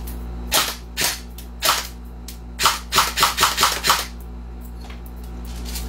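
An airsoft toy gun fires a string of sharp, snappy cracks, a few spaced single shots and then a quick burst of five or six, close and crisp with no talk over them.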